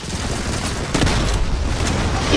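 In the Modern Combat 5 shooter game, a grenade blast hits as a loud, dense burst of explosive noise, with continuous gunfire and battle din running through the whole stretch.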